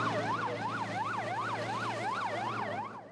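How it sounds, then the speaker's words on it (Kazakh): An emergency vehicle siren wails during a rescue drill, its pitch sweeping up and down in a regular, even cycle about every half second, loud and close over a low engine hum before fading slightly at the end. "құтқарушылар жедел жәрдем қызметі дабылмен көтерілді"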